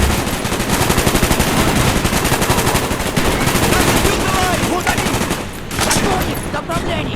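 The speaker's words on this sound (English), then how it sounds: "Grab that minigun!" A minigun fires continuously in the Call of Duty: Black Ops prison escape, a loud dense roar of rapid gunfire that fills the whole stretch, with faint shouting mixed in.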